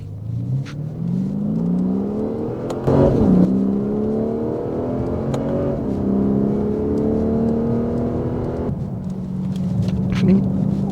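A Lexus RC F accelerates hard on a race track, its engine note climbing through rising revs with brief dips at gear changes, loud and close from onboard.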